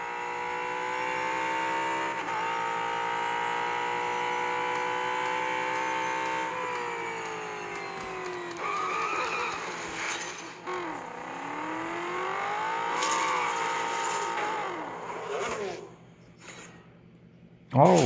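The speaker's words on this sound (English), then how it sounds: "The sound of V8." Brabham BT62 race car with a V8 engine in a racing game, roaring steadily, then rising and falling through gear changes with brief tire squeal, ending in a sudden loud burst.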